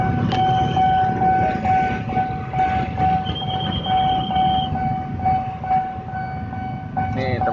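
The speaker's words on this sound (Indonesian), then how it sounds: "melintas langsung kereta api Gaya Baru Malam Selatan dari stasiun Pasar Senen tujuan akhir stasiun Surabaya Gubeng" Gaya Baru Malam Selatan passenger train, hauling a baggage car, passes close by with loud, continuous rumbling and rail clatter, a steady tonal whine and a brief horn-like squeal near the end.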